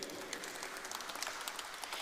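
Audience at a felicitation ceremony for college rugby sponsors clapping steadily, a moderately quiet patter of many hands sustained throughout without pause.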